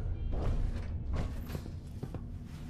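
Lock picking on a locked door in Fallout 4, heard as a run of creaking, scraping metallic clicks and tension squeaks in irregular bursts over a low steady game background hum, with no voices.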